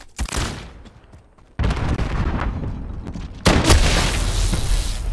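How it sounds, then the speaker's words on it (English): Grenade blasts and gunfire in a Call of Duty Modern Warfare match, with a booming explosion opening sustained, rumbling fire, then a second, louder blast about midway, all loud and close with no voices. "Grenade out!"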